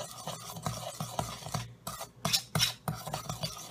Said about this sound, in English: I'm going to stir this together just until the salt and the sugar are partially dissolved within the oil